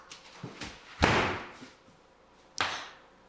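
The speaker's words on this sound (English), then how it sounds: "Bust down that door, Scott." A door is busted down as a radio play sound effect: several sharp wooden slams and thuds, the loudest a heavy crash near the middle, followed by a final hard bang.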